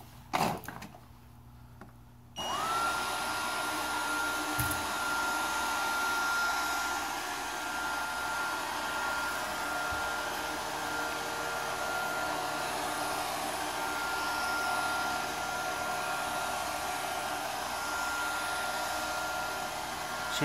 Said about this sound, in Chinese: 扫地机器人